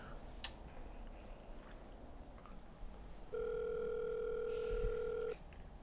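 A telephone ringback tone sounds once, a steady electronic tone lasting about two seconds while the call goes unanswered, heard against quiet indoor room noise with no talk.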